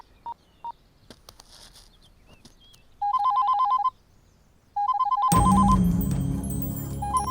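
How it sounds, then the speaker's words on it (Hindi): Two short tones, then a warbling electronic phone ring that sounds in two bursts, the second swelling into a loud burst of noise. "इस वक्त स्वाति का फोन?"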